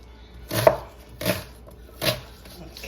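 A knife chops through onion on a cutting board in three separate, solid thuds spaced about a second apart, close and clear with no talking.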